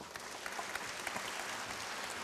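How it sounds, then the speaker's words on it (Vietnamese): An audience claps at a live concert in a large formal hall, a faint, even patter of many hands that carries on without a break. "Xin quý vị một tràng pháo tay cho cô Bích Huyền."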